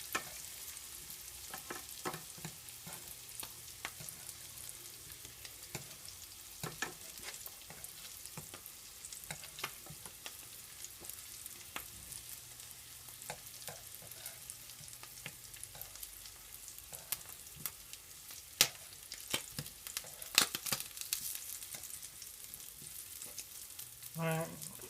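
Potatoes frying in a pan sizzle steadily and close by, with a constant hiss broken by scattered sharp pops and occasional utensil scrapes as they cook.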